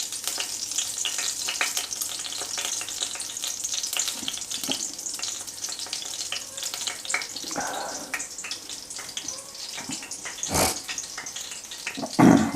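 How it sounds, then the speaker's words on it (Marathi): Cumin seeds sizzling steadily in hot oil in a pan, with continuous close crackling and spitting and a few clinks of a spoon stirring. "तेल गरम झालेलं आहे, तर आपण ह्याच्यामध्ये 3 ते 4 छोटे चम्मच आहे ते जिरे टाकतो."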